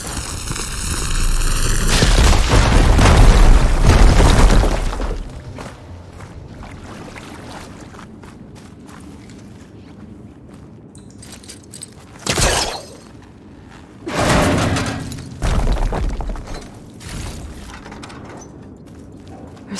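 A fire gleam blows up in Horizon Forbidden West with a loud, booming blast early on. A quieter rumbling tail follows, and a few sharp crashes and bursts come later.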